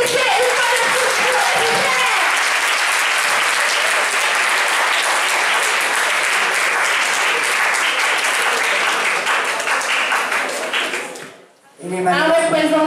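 Loud sustained applause from a school audience at a media and journalism awards event, beginning under a voice and swelling into dense clapping that briefly drops to near silence before talking resumes.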